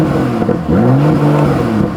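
A BMW M2 with its exhaust valves opened in sport mode revs up close and loud, the engine note climbing and holding in a rough, throaty drone.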